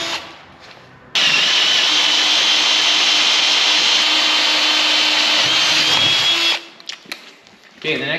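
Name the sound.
power drill drilling holes in metal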